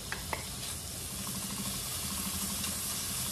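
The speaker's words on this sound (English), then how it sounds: "then we're gonna cook our bacon." Bacon sizzling over high heat in a pan or wok for bacon and egg fried rice, a steady bright crackle and hiss with a few small pops, close and continuous throughout.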